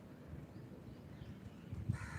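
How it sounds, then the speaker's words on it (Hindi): Crows caw faintly in the distance outdoors in the morning, with a few soft calls building near the end over a low, steady background hum. "कानों से पक्षियों की मधुर आवाज़ को सुने।"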